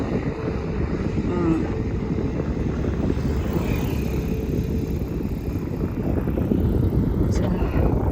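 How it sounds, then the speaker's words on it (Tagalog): Strong wind buffets the microphone at a clear-water beach, a loud steady roar that lasts throughout with no break. "Ang lakas kaya ng hangin dito"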